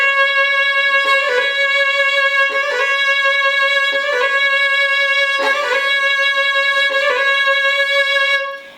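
Fiddle playing quick Celtic ornamental turns, each note flicking rapidly to the neighbours above and below, in bright, close, bowed phrases repeated about every second and a half with no talking.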